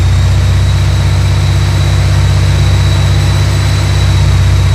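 A supercharged 2019 Mustang GT 5.0 with a manual gearbox holds a steady 2,000 RPM, its loud, even engine drone continuous with a constant high whine on top and no talk.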